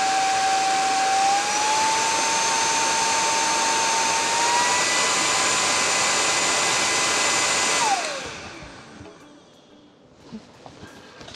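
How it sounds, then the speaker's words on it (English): A Kacnon cordless air duster blows air with a loud, steady high-pitched whoosh and whine that shifts slightly in pitch, then spins down and fades out, leaving a few faint handling clicks. "It's just blowing air, okay?"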